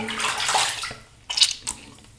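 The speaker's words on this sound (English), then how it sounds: "All right, let's rinse off" Running water rinses Martin de Candre shaving soap lather away, a close splashing stream that fades, then returns in a couple of short bursts.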